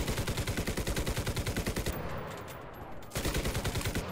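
Rapid sustained machine-gun fire in the World War II shooter Enlisted, set in the Battle for Berlin, loud and close in a steady rhythmic stream, pausing about a second before another burst resumes.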